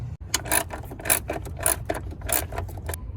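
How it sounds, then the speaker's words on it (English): A 12 mm socket ratchet tightens a car battery bracket bolt on a Nissan Titan, giving a steady run of close, rasping clicks in quick repeated bursts with no talking. "we can use that 12 millimeter socket to get it tight"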